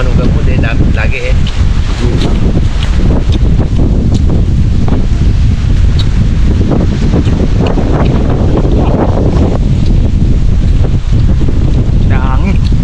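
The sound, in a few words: strong wind blowing at sea, on the microphone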